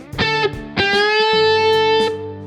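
A distorted electric guitar picks a reference note, then a string is bent up a whole tone and held with a steady, ringing sustain. The playing is loud and close and heard alone.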